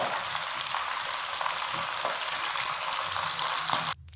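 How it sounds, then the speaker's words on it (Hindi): Chicken frying in hot oil in a kadhai makes a loud, dense, continuous crackle close by, with light stirring scrapes, cutting off abruptly at the end. "तेल लेकर उसको अच्छे से इसमें डालकर आप लोगों ने इसको अच्छे से फ्राई कर लेना है।"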